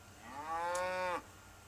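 A single weaning calf in a cattle pen moos once, a long, loud, drawn-out low bellow lasting about a second, with a quiet outdoor background.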